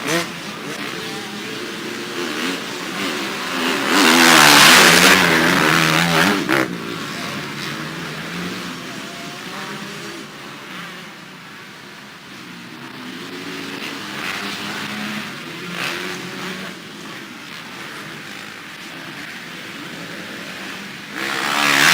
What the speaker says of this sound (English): White flag for Caleb Wells, leading the way in open two-stroke